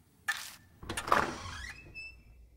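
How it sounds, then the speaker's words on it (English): A door in the horror game Death Mark is pushed open: a quick bump, then a scraping, creaking swing lasting about a second that fades into a faint tonal hum, with no talking. "I push on the door."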